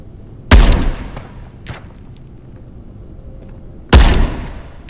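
Loud gunfire booms in the VR shooter Ghosts of Tabor: two heavy shots roughly three seconds apart, with a fainter shot between them, each followed by a short echoing tail.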